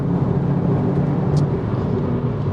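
Steady car engine and road noise from inside a car overtaking on a Scottish road trip, a continuous low rumble with a brief faint whine partway through, no talking.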